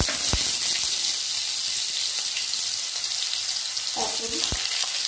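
Sweet potato, pointed gourd, ridge gourd and okra go one by one into hot oil with a panch phoron tempering, giving a loud, steady sizzle with a few sharp clinks of utensils against the pan.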